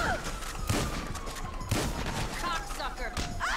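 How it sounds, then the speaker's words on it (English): GTA 5 gameplay gunfire in bushes, with several sharp shots popping at intervals over a steady background hum, fairly loud and close, while someone talks. "You got me up here shooting in the bushes."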